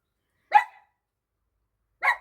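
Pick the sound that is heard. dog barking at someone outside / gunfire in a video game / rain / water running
dog barking at someone outside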